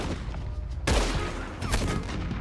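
Gunfire in the Red Dead Online game, a sudden loud close shot followed by a sharp crack and echoing reports over a low ambient rumble.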